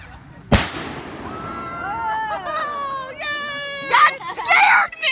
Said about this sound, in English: This is fireworks gone wrong here!